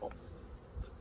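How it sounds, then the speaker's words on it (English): A low, steady buzz of honeybees flying near their hives drones through the short clip, faint and continuous. "those bees will be out and they'll be making flights"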